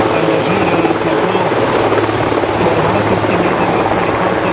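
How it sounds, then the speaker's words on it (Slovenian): A Slovenian army helicopter, used for medical evacuation and transport during a humanitarian assistance exercise, roars loud and steady as it comes in to land, with its rotor thudding continuously nearby. "vidite dva navajalca, ki usmerjata pristanek helikopterja"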